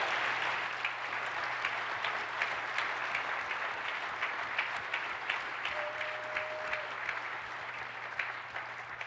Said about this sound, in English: give these guys a big hand of applause as well